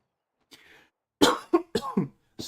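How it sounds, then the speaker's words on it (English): A series of harsh coughs during a gaming session: a faint throat noise first, then four or five loud, close, chesty coughs in quick succession. "This fucking cough is killing me"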